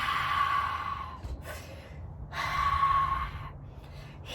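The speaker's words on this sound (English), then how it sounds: "breathe out, breathe in and breathe out" Slow, deep breaths during a stress-relief breathing exercise, two long airy exhales separated by short pauses, close and moderately loud with no talking.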